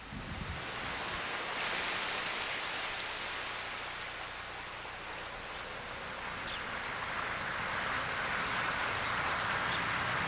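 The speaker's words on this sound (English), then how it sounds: "After more than a year of drought, the rains finally returned to South Africa's Limpopo province." Rain falls steadily in South Africa's Limpopo province after a long drought, a dense, even hiss of drops hitting surfaces that stays strong and continuous, with no voices.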